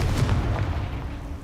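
The Confringo blast spell in the video game Hogwarts Legacy sets off a deep booming explosion that rumbles and fades over about a second and a half.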